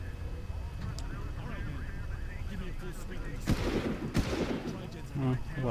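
Gunfire in the video game Far Cry: a few sharp shots ring out, two standing out loudly near the end, under continuous talk from a player.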